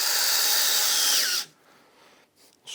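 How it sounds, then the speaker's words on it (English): A power drill drives a screw into a wooden garden trellis batten, a loud steady whine for about a second and a half that cuts off abruptly, followed by quiet handling noises. "Now I've got to come in underneath. We'll screw them on."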